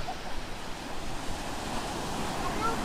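Waves washing up on a beach, a steady surging wash of surf with wind noise buffeting the microphone, fairly close and continuous, with no talking.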